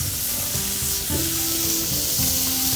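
Burgers and pineapple slices sizzling on a hot barbecue grill, a steady hissing sizzle heard close up, with soft music underneath.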